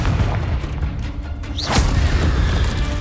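A Confringo spell explodes in the Hogwarts Legacy video game, a loud booming burst rising midway through a dense, rumbling game soundscape, with no voices.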